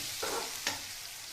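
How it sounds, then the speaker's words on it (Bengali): Spices with turmeric and chilli powder frying alongside potato and aubergine in a pan, a soft sizzle with two brief scraping stirs. "হলুদ অথবা একটু লঙ্কা গুঁড়ো করা তারপর মশলাটা একটু কষিয়ে নিচ্ছি"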